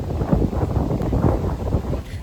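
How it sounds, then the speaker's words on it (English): Gusty wind buffets the microphone outdoors, a fairly loud, continuous low rumble that swells and eases. "it was quite windy today"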